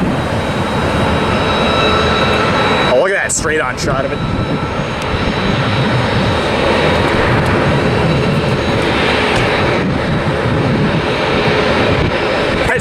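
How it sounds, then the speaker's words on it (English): Outside San Diego's airport, a JAL Boeing 787 roars steadily as it takes off, a loud broad rush of jet engine that lasts throughout, while a person speaks briefly over it. "Here's the JAL 787 about to take off."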